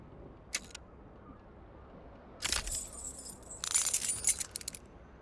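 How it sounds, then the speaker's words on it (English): Keys clinking in the pocket of flare-cut pants in Disco Elysium, a single key on an aluminium keyring: a brief jingle early, then two louder bursts of metallic rattling, close and alone with no voices. "You hear a jingle. Keys are clinking in the pocket of your flare-cut pants."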